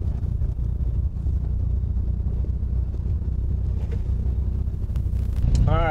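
A Can-Am off-road vehicle drives on a pronghorn antelope hunt, its engine a continuous low rumble close to the microphone, steady throughout with a slight rise near the end.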